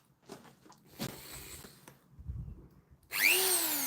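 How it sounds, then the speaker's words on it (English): After quiet handling noises, a Dremel rotary tool fitted with a small polishing head for box lids spins up near the end into a loud, rising whine. "So the tool I'm going to be using is a Dremel."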